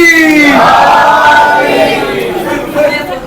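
A crowd shouts a religious slogan in unison at an evening Shia poetry gathering, a loud massed voice rising then falling away over about three seconds.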